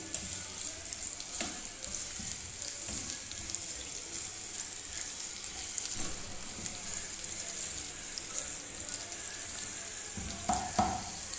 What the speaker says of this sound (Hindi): ऑयल गर्म हो जाने की सूरत में हमें डालना है इसमें प्याज।